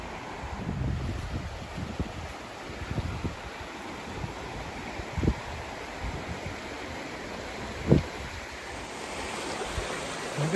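A creek flows beside a rhododendron-lined forest trail on the Allegheny Front Trail, giving a steady wash of rushing water with occasional thumps and wind buffeting the microphone.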